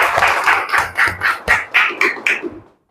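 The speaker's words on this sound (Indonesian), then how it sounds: "Tepuk tangan dulu." A group claps hands in rhythmic bursts during a classroom ice-breaking game, about nine quick clap clusters in a steady pulse before stopping abruptly, with no talk over them.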